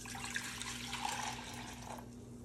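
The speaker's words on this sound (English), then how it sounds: "you're gonna take the water that's already in the bong and you're gonna pour it out" Water being poured out of a glass bong, a steady, faint liquid splash and trickle running for a couple of seconds with no talk.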